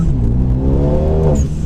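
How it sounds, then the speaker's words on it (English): A Renault Megane RS 250 Cup Lux hot hatch, tuned to 310 bhp, accelerates hard under throttle, its engine note climbing steadily in pitch over under two seconds, loud and close with no talk. "And then let off the throttle and then boot the throttle"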